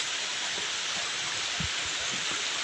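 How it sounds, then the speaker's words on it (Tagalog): Heavy rain pours steadily over a rural farm area, a dense continuous hiss with faint low thumps, no voices heard. "Kay kusog na ang ulan."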